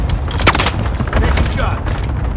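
Gunfire rings out in Call of Duty: Warzone, several loud close shots and booming impacts in quick succession, with a voice talking during the firing.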